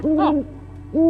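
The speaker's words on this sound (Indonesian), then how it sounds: "Itu kenapa ada burung hantu lagi kayak di rumah sini ya?" An owl gives two low hoots close by, a quavering first call and a shorter second one after a brief gap, with nothing else over them.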